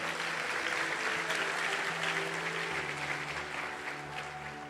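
A church congregation applauds in a steady wash of clapping that holds without a break and fades slightly toward the end, with a low sustained tone, likely music, underneath.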